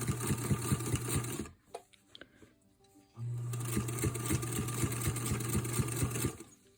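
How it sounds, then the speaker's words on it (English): A sewing machine stitches double fold binding onto a quilt, a rapid mechanical whirring hum in two bursts separated by a short pause with small clicks, close and moderately loud with no talk. "Let me get the camera adjusted so you can enjoy the sounds of the sewing"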